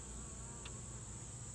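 Honey bees buzzing around a Langstroth hive, a dense continuous hum close by with one bee passing briefly nearer.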